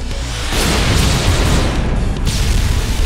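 Soldiers open fire amid explosions, a sudden heavy boom bursting in after half a second of quieter rumble and then rolling on as a loud, sustained blast of gunfire and detonation.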